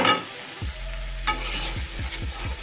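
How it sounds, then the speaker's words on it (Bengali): Ghee is stirred into a traditional Bengali bottle gourd and prawn curry over a low flame, a soft steady sizzle under repeated rhythmic scrapes of a spoon against the pan. "আমি ভালো করে তরকারির সাথে ঘিটাকে মিশিয়ে দেব"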